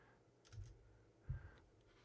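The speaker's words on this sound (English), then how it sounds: "That's really like grandpa typing here." Typing on a computer keyboard comes through as two quiet, separate clusters of key clicks with a pause between them, faint and close against a low background.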